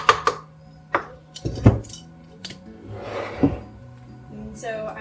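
Utensil scraping and clinking in a bowl while applesauce, butter and sugar are mixed for blueberry quick bread, irregular close knocks and scrapes with a voice talking over them.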